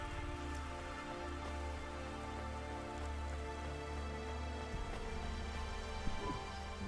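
Rain falls in the video game Cloudpunk, a steady patter of drops on surfaces under a low background hum, with no voices.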